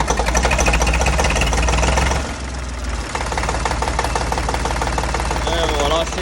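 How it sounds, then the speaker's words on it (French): A Renault E70 tractor's diesel engine runs steadily after starting, a loud, close, rough knocking idle that continues throughout with a brief dip in level midway. "Voilà, c'est démarré, ça fait un peu de bruit, c'est normal, c'est le tracteur."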